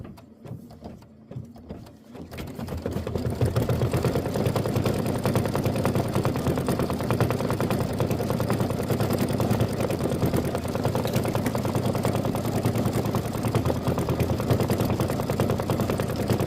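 A machine stitches a decorative outline on a Kimberbell butterfly mini quilt block, starting after a brief quiet moment and then running as a steady, rapid, continuous mechanical whirr close by, with no talking.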